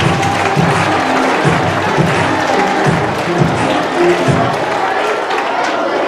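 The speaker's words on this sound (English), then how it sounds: "Here's some round of applause." Sixth-grade students at a middle school assembly clap and cheer in a busy, crowded burst that fills the hall, with chatter and shouts mixed through the steady applause.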